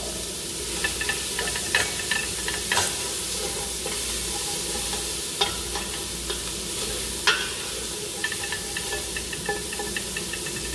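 Yellow bell pepper sautéing in olive oil in a pan, with a constant close sizzle and intermittent clinks and scrapes of a utensil stirring, no talking.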